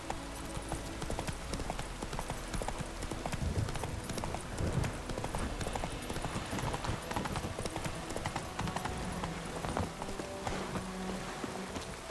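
Galloping horse hooves in The Witcher 3 beat a quick, continuous clip-clop over game music and ambience, with a faint whinny now and then.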